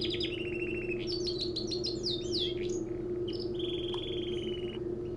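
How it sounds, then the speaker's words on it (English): A caged blue jay in the video game Heavy Rain chirps in quick bright bursts and trills, followed by a longer steady whistle, over a constant low hum. "Little blue jay."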